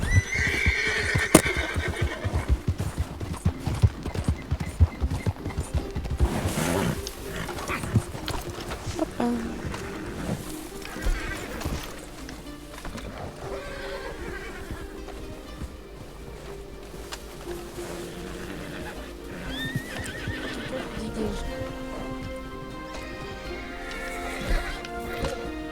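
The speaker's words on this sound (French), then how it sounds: "C'est à qui ce cheval, non?" A horse in the video game Red Dead Redemption neighs loudly near the start, followed by clip-clopping hooves and game ambience, with players talking intermittently over it.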